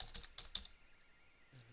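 A few quick keystrokes on a computer keyboard while HTML code is typed, clustered in the first half second and then fading into quiet room tone.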